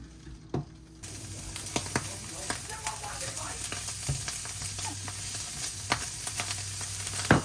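A home-cooked meal-kit dish fries and sizzles steadily in a pan, a close, even hiss broken by occasional knocks and scrapes of stirring.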